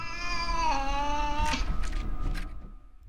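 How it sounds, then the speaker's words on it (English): A cat meows in a long, drawn-out wail, followed by a few scuffling noises, fairly close and with no talking. "Oh, it's a cat?"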